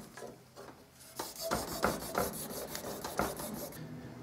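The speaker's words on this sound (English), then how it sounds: "Just take the wick, work it vigorously." A wick rubbed vigorously over a stuck trumpet main tuning slide, giving quiet, close rasping strokes in uneven bursts.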